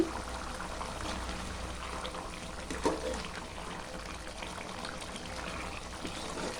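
A steady stream of meat-cooking water pours into a pot of mutton gravy, with a brief louder splash partway through and a low rumble underneath.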